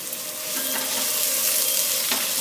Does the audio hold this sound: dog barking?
no